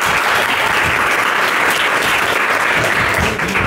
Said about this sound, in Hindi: इसके लिए तालियां बजाएं